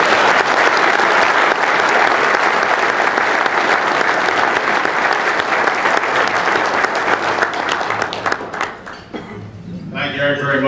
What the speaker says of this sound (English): Would all of you join me in giving a big round of applause for our guest, Mr. Larry Myers?